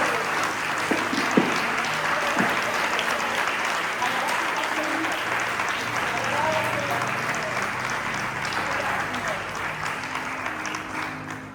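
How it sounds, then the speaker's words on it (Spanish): A church congregation gives loud, sustained applause that stays dense and steady for several seconds. Faint voices and cheers can be heard under the clapping. "Démosle un aplauso fuerte."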